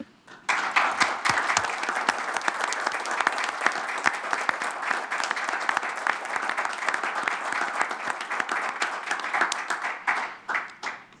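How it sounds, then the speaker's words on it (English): Sustained applause from the audience at a county board meeting, a steady dense roll of many hands clapping for about ten seconds, fairly close and alone, tapering off at the end. "I would like for us to give her a round of applause"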